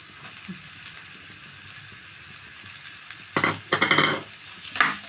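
Mashed peas and potatoes go into a frying pan for pav bhaji, a soft sizzle giving way to loud bursts of stirring and scraping near the end.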